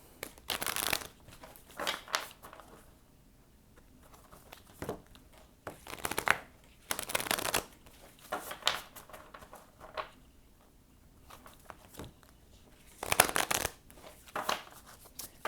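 Tarot cards are shuffled in repeated bursts of riffling and patting, close up, with short quiet gaps between each pass.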